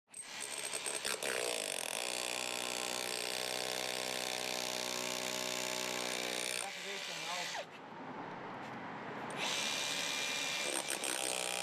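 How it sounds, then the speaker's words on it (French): A hammer drill bores holes for insulation anchors in an exterior facade, a loud continuous whine and rattle close up that briefly drops then resumes. "Percez les marquages avec votre marteau perforateur et placez la cheville."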